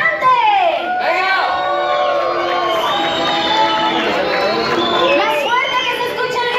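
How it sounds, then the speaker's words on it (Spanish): A lively crowd at a Miss Hooters Mexico uniform runway show cheers and shouts for a contestant, a dense, continuous wash of excited high voices, whoops and chatter at close range. "Quiero escuchar los gritos y el escándalo para su participante."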